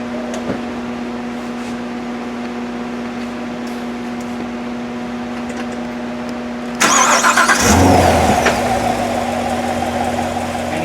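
A 2015 Corvette Stingray engine cranks and fires after a steady hum, then settles into a loud, even idle that continues to the end.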